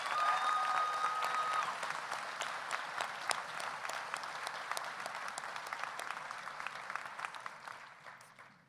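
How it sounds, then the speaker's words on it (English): A crowd at a high school graduation ceremony gives a long round of steady applause that fades gradually, heard from within the audience. "Can we give a round of applause to Mr. Mike Rugen?"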